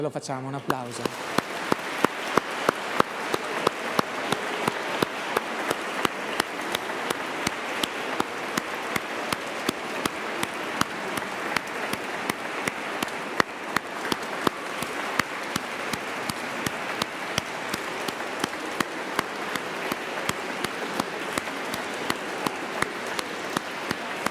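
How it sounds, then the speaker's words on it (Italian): Congregation applauding at a First Communion Mass in a church, a steady, sustained wash of many hands clapping that continues evenly for the full length, with a brief voice at the very start. "Ce lo facciamo un applauso."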